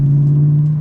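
A BMW E90 M3 saloon in normal drive mode gives a deep, loud, steady engine drone heard from inside the car with a window open, a brief sustained rumble without speech.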